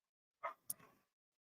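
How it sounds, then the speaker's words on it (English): Dogs indoors give two short barks close together, faint and alone with no talk over them. "I'm having to talk over the dogs."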